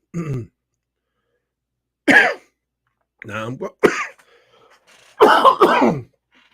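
Someone close to the microphone coughs and clears their throat several times, short separate bursts with quiet gaps, ending in a double cough.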